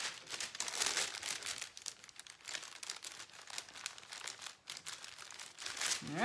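A strip of plastic bag serving as a tote handle is tugged and crinkled, making continuous close rustling and crackling with uneven surges and pauses.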